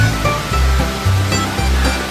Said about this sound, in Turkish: Sarı Yayla Şelalesi.